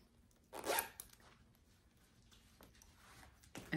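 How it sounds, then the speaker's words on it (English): The zip-top closure of a Vera Bradley crossbody purse is pulled open in one quick, close rasp, followed by soft handling rustles and a second short zip at the end. "Zip top closure."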